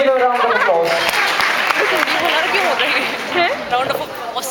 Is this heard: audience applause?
yes